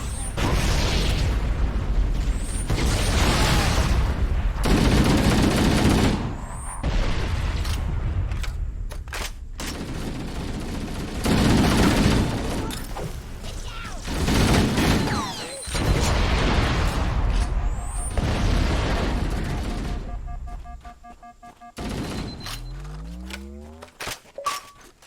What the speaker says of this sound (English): Another wave coming through a crevice gets met with a flurry of grenades from the two.